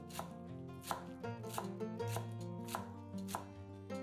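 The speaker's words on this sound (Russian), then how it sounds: "Пучок зелени мелко нарезаем ножом." A kitchen knife chops a bunch of fresh parsley and dill on a cutting board, a steady run of crisp close taps at a quick rhythm, with soft music in the background and no talking.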